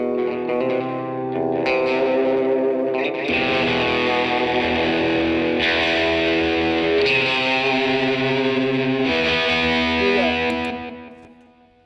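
A heavily distorted electric guitar played through a Morley Analog Multi FX AFX-1 pedal plays sustained, saturated chords with a thick, buzzy tone, steady and loud throughout before trailing off at the end.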